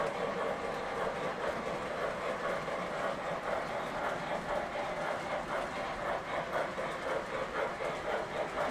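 A Lionel model train runs steadily around a home layout, with a continuous mid-level rolling rumble and faint rhythmic clicking of wheels over track joints, heard alone.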